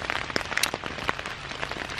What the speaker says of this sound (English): Raining really hard too.